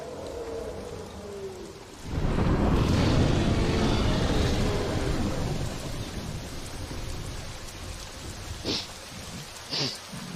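Thunderstorm in the dinosaur survival game The Isle: a deep rumble of thunder rolls in over steady rain, then settles into a constant heavy rain hiss with a couple of brief sharper sounds near the end.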